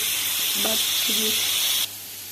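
Eggs frying in a wok give a steady bright hiss that cuts off near the end, with faint tonal kitchen noises under the sizzle.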